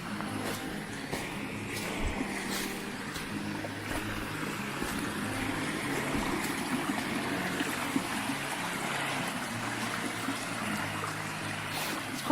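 A waterfall ringed with icicles on a walk between Muker and Keld rushes and trickles steadily at moderate distance, a continuous watery wash with small splashes and drips.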